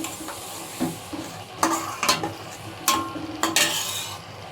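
A hilsa fish head fries with jackfruit in a pan, a soft sizzle under several sharp bursts of stirring and utensil scraping against the metal, close and alone.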